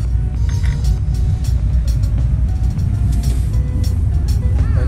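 A Renault engine with an injection fault idles roughly and unevenly, a steady low rumble with irregular stumbles, recorded close up with no talking.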